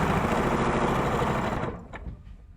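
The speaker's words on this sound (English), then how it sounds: "I'm just sewing directly on these lines" Domestic sewing machine running a steady, close stitching whirr along drawn lines on fabric for half square triangles, stopping abruptly near the end and leaving faint handling noise.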